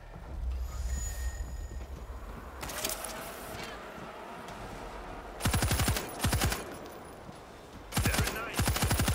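A stationary machine gun fires in the World War Z video game during a fight, in two or three short, loud rattling bursts over a noisy battle background.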